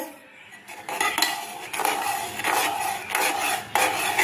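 Food being stirred by hand in hot ghee in a cooking pot, giving a close, steady scraping and clinking against the metal with rhythmic surges, no talking.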